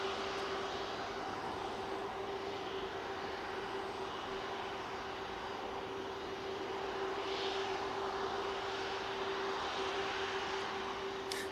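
An Airbus A330 jet taxis at Manchester Airport, its engines giving a steady, continuous roar with a sustained whine above it, holding at one level from start to end with no talk.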